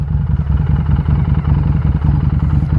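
A motorcycle in first gear pulls away from a stop, its engine a steady, loud, low chugging thrum close by, with no voices.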